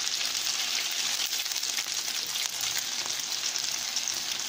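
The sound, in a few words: oat and tuna patties frying in oil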